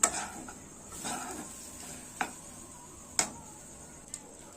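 Semolina (suji) being stirred in a pan over a low to medium gas flame, with sharp spoon taps against the pan at irregular intervals over a soft background hiss.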